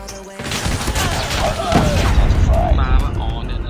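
Rapid bursts of gunfire in the mobile shooter game Call of Duty Mobile, loud and dense with overlapping shots and booms, with a voice talking over the game sounds.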